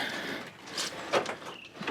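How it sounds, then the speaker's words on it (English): A rusty door on a 1963 Chevy one-ton truck is pulled open, producing a scraping creak and a short metallic clunk midway, fairly close, with no talking. "let's see if his door will open. Ugh, a little rusty"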